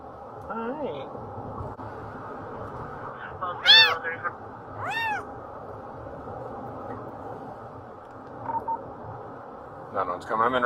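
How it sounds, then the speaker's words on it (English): A rescued cat meows several times in short, strained cries, heard over a noisy police radio channel and background hiss, with beeping tones and people talking intermittently nearby. "We got the cat out."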